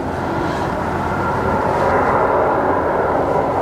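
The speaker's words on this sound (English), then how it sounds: "It's one of the loudest ships we've had so far." A loud ship passes on the Westerschelde in the Netherlands, its heavy engine rumble a broad, continuous roar that swells slightly as it goes by, with no talking.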